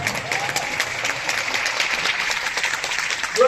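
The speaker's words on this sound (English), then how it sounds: "And a round of applause for our pre-game show" An audience at a large Taipei music venue claps steadily for performers in a pre-show before a tech keynote, a sustained crowd applause from start to finish.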